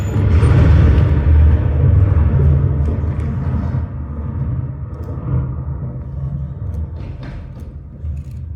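Thunder sound effect played during a rehearsal of Lord of the Flies at a theatre, a loud deep rumble that peaks at once and slowly fades over several seconds, heard alone.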